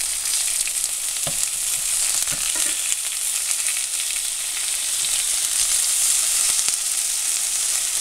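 Chicken pieces fry in a pan after being flipped, giving a steady, moderate sizzle with a few soft clicks and scrapes and no talking.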